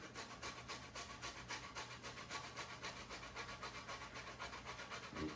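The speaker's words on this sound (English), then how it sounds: "But we're going to use this box grater." Fresh ginger being grated on a metal box grater in a home kitchen, a steady rhythmic rasping scrape repeating about four times per second, close and moderately loud, with no talking.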